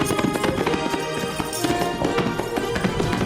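Horses' hooves clip-clop rapidly in a dense, loud flurry of overlapping clattering beats, as if several horses are hurrying, layered over busy background sound.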